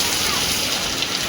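Steady rain falls outdoors during the first rains of the season, a dense even hiss of drops close around, loud and unbroken throughout, with a voice faintly present beneath it.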